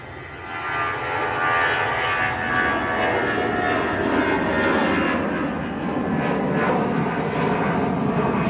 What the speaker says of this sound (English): Next to go is Lufthansa, just starting the roll going out to Frankfurt, and it's the A319 that came in earlier